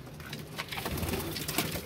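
Pigeons coo inside an enclosed coop, soft repeated throaty calls overlapping close by against a faint background rustle.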